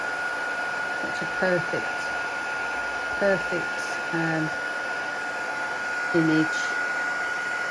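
A heat embossing tool blows a steady, close, broadband whoosh throughout, with a voice speaking briefly over it.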